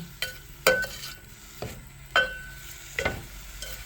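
Dry food stir-roasted without oil, scraped and stirred in a pot, with a few sharp metallic clinks of a utensil against the rim over a faint sizzle.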